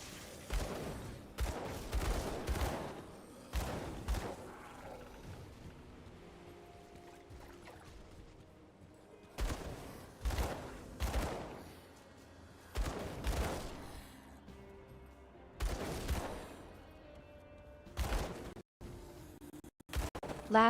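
Bursts of gunfire from the video game Grim Dawn come in repeated clusters of rapid shots with short quiet gaps between them, moderately loud and without talk.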